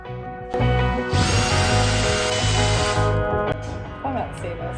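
A power drill bores into a bus roof, whirring loudly for about two seconds in a sustained close burst, with shorter mechanical clicks and tool noise before and after.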